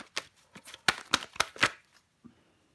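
Tarot cards shuffled and drawn during a reading: a quick run of crisp riffling flicks and slaps, four sharper snaps clustered near the middle, then a soft final tap before quiet.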